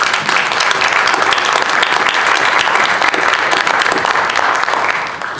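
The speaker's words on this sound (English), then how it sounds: "I'd like to give a round of applause and recognize that group." Loud, sustained applause from a large crowd, dense and even throughout, tapering slightly at the end.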